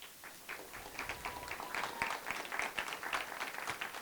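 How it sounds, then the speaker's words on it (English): An audience applauds after an introduction at a Purpose Club Tour event in Richmond, Virginia, a steady wash of many hands clapping at moderate distance throughout, fairly soft with no voices over it. "Can we please give him a round of applause?"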